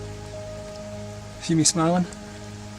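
Light rain falls steadily at a forest campsite in autumn, a soft continuous patter under a brief spoken remark from a nearby man.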